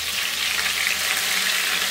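Pointed gourd (potol) pieces frying in hot oil, browning with spotted marks, give a steady, dense sizzle that runs loud and continuous throughout with no voices.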